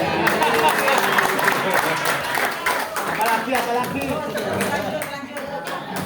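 Audience applause at a school religious-education seminar in Probolinggo, with brisk clapping mixed with crowd murmur and a voice speaking over it throughout.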